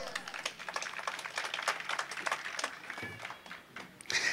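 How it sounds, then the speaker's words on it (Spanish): Applause from a church congregation during a Quechua sermon in San Jerónimo, Huancavelica: a dense, steady patter of many hands clapping together, fairly close, with voices mixed in and a brief louder burst at the end. "dale palmas"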